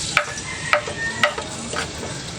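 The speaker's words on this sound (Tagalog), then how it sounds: "lagay na po natin yung bawang" Chopped garlic sizzles in hot oil in a pan for vegetable eggplant adobo, with a steady frying hiss and a few sharp scrapes and clinks of stirring.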